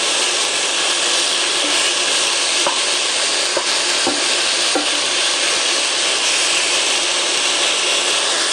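Seasoned beef, salted and peppered, sizzles steadily as it browns in a pan over high heat, a constant dense frying hiss with occasional faint scrapes of stirring, and no talking.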